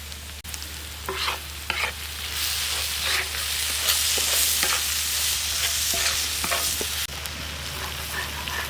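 Masala and spices sizzle steadily in oil in a pan for a Kerala-style fish dish, with scattered scraping stirs and clinks throughout; no talking.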